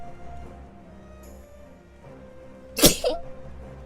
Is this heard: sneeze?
yes